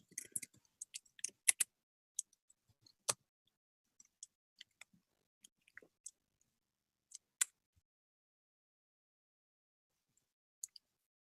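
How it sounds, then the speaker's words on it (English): Sparse, quiet keystrokes on a computer keyboard during an online call, scattered single clicks with short bursts and long silent gaps between them. "I'm just typing."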